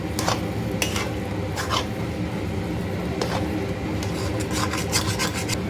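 Rice flour batter for neer urundai stirred in a pan, a continuous close rasping scrape of the utensil against the pan with sharper strokes recurring every second or so.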